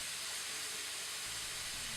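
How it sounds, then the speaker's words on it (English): Garlic sizzles in hot oil in a pan, a bright steady hiss that continues throughout with a slight low shift partway, no voices. "Then add your garlic and let it sizzle for a few seconds."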